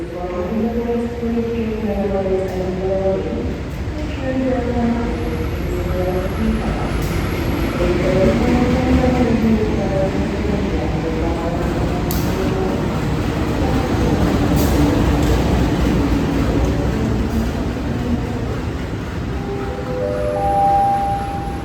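The Gaya Baru Malam Selatan passenger train pulls into a station platform on track 6 with a loud, steady mechanical roar and squealing, wavering brake tones rising and falling over it, with occasional clanks.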